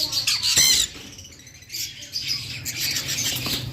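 Five budgerigar chicks squawk in harsh, close bursts, one loud cluster then a scatter of scratchy calls and chirps.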